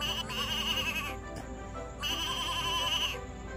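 Two drawn-out, wavering sheep bleats from a push-button farm-animal toy, each lasting about a second, with a short gap between them and a steady low background hum.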